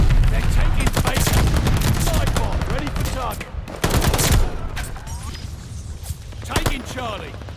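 A 64-round machine gun rattles in long, dense bursts during a Call of Duty: Vanguard match, loud and continuous with scattered other gunfire and explosions around it, while a player talks over it.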